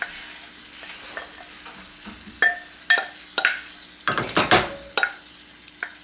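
Curry mixture with coconut milk, curry powder and garam masala stirred in a frying pan: a series of scraping, clattering utensil strokes over a quiet sizzle, close and distinct.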